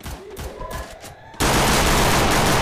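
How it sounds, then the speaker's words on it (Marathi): Counter-Strike gunfire: after a quieter stretch of game ambience with a faint voice, a loud, sustained burst of rapid shots erupts and fills the rest of the moment. "बाकी आता मी रेडी आहे फायरिंग करण्यासाठी।"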